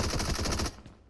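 In PUBG Mobile, an AMR rifle fires a rapid burst of loud, close gunshots in quick rhythmic succession that cut off sharply, leaving a brief fading tail.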